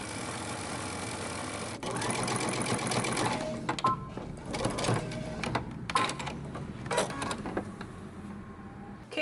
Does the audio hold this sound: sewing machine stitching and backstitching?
yes